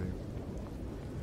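Thunderstorm with rain in the space exploration game No Man's Sky: a faint, low rumble of thunder blends with steady rain noise, brief and quiet, with no speech.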